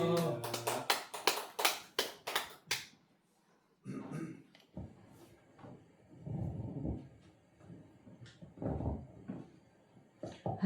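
An audience at a church gathering claps to welcome a visiting professor, with a brisk, dense burst of handclaps for about three seconds before voices talk quietly.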